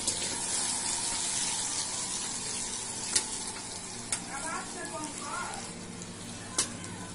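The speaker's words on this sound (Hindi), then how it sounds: "तो कटे हुए कटहल को सरसों के तेल में भूनना है।" Chopped jackfruit fries in mustard oil with a constant bright hiss, punctuated by a few crisp clicks of a spoon against the pan, while a voice murmurs briefly underneath.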